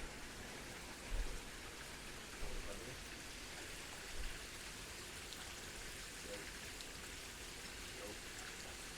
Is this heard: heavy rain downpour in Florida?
yes